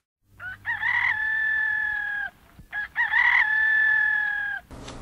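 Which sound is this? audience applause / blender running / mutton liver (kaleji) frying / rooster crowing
rooster crowing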